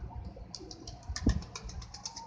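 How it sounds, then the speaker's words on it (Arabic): Iraqi blue pigeons coo softly nearby while wings flap in brief bursts, with a few light chirps over quiet background noise. "هاي طيور، هاي طيور الزرق العراقية."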